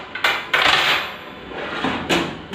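A grilling pan is handled during an unboxing, giving a few clattering metallic knocks and scrapes, with louder bumps near the start and end and quieter handling between, no voice over it.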